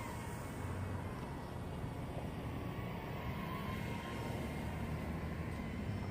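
JXD UFO hybrid drone fitted with heavy three-bladed props, flying with a steady broadband whirring drone that holds constant and fairly loud throughout, with no talk.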